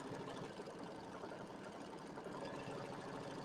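A computerized embroidery machine stitches a quilt border, giving a steady, continuous mechanical hum with a fine rapid needle patter throughout, close and even in level.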